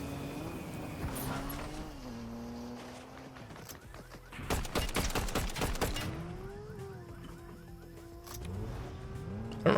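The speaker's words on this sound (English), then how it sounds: "Oh, gunshots this way." Rapid bursts of gunfire from other players in Fortnite Zero Build, a dense volley cracking out mid-clip amid steady game engine and ambient noise, with scattered shots before and after.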